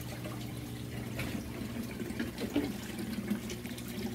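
Water is poured into a crayfish pond as a continuous soft splashing trickle, steady and fairly quiet throughout with slight surges, and no talk over it.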